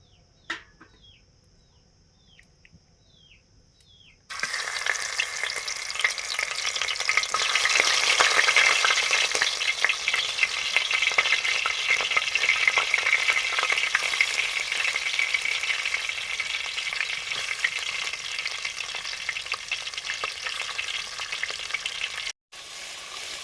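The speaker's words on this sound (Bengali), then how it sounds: "বন্ধুরা, মাটির হাঁড়িতে কত সুন্দর শিঙি মাগুর মাছ ভাজা হয়ে গেছে" Singi and magur fish frying in a clay pot make a loud, dense, continuous sizzle with crackling that runs steadily for most of the clip, after a quieter start with a few faint bird calls.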